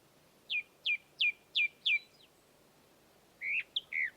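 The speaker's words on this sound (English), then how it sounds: "I couldn't see the thrush, but that's what it sounded like." A thrush sings among tree branches in a rocky outdoor spot: five short, clear, evenly spaced whistled notes, then a brief pause and a quicker run of three varied phrases, fairly faint against a quiet background.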